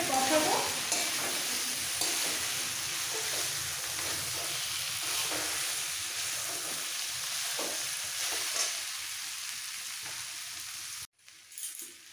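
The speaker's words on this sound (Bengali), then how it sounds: "আর দিয়ে দেবো ভেজে রাখা এঁচড়গুলো। এবার একসাথে কষাবো।" Fried jackfruit sautés with spices in a pan, a soft steady sizzle with repeated scraping stirs throughout, fairly quiet and close, stopping abruptly just before the end.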